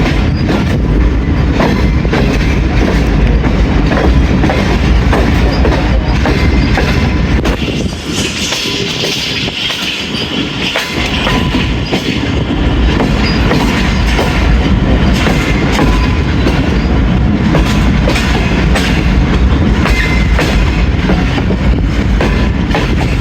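Inside the 101 Up railcar running from Lahore to Rawalpindi, a loud continuous rumble of wheels on track with steady clatter fills the whole stretch, easing slightly for a moment before building again.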